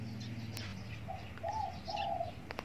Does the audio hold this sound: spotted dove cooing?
yes